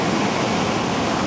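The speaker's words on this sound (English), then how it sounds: "We got some good waves coming up here." Ocean surf at Centerville Beach gives a loud, continuous wash of breaking waves, heard close and unbroken.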